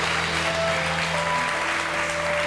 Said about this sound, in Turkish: Valla biz heyecanla alkışlamaya başladık